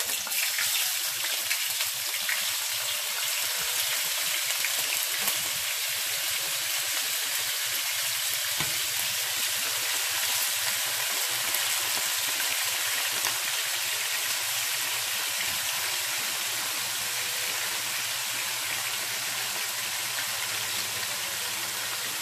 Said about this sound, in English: I have some vegetable oil in here, heated, and I'm just going to go in with my pork